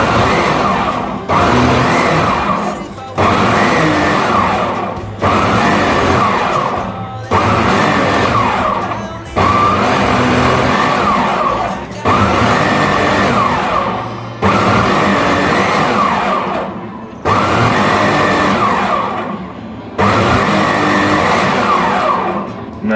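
Blender pulsing Thai dragon chillies and pineapple for a hot sauce, ten loud bursts of motor whir roughly two seconds each, separated by brief gaps, close and alone without talk.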